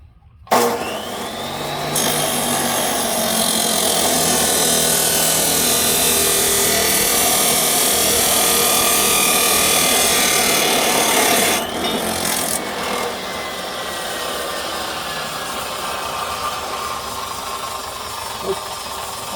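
Steady loud rasping and grinding as material is cut off old exhaust flanges from a Lamborghini Anza exhaust, running continuously for most of the span and easing slightly near the end.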